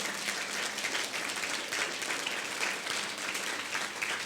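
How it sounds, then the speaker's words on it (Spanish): A church congregation claps together as an offering of praise, even dense applause that carries on for several seconds, fairly soft and somewhat distant. "démosle una ofrenda de palmas al Señor"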